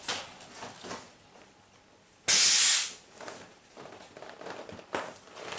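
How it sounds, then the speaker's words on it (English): Inflatable Crivit two-person canoe valve releasing air as the nozzle is pulled out: one sharp, loud hiss lasting about half a second amid quieter handling noises and faint rustling. "you're going to have the air escaping as you pull out the nozzle"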